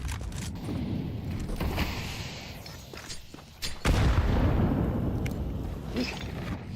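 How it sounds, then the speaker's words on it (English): A grenade explodes in Counter-Strike: a sudden loud boom rises sharply mid-clip and then rumbles on, with scattered gunfire-like cracks before it. "Decent nade, but a molly will force Khan off the angle"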